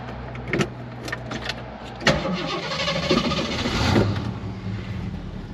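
A 1968 AMC AMX with a 390 V8 cranks and fires up at a classic car dealership, a few sharp clicks, then the starter churns and the engine catches into a building rumble that settles toward idle.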